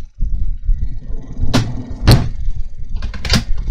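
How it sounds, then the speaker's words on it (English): Subway train doors slide shut with a few quick thuds and bangs over the steady rumble of a train at a station stop. "Please stand clear of the closing doors."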